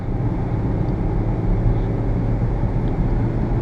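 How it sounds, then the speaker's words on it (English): A 1.1-liter Hyundai Atos accelerates hard toward 120 with the throttle pressed down, a steady, loud cabin drone of engine and road noise holding throughout with no speech. "I want to show you guys the climb to 120 with me actually putting my foot down"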